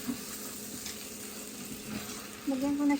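Water poured into a hot pan of browned tinola, a steady sizzle and bubbling hiss that swells near the end, close and moderately loud, with no talking.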